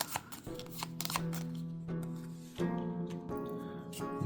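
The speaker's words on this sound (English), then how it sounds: "So we'll need to shuffle the bandits' cards." Cards shuffled by hand for a solo board game campaign of The Hunters AD 1492, a soft, close riffling and sliding that runs for a few seconds over a faint steady hum.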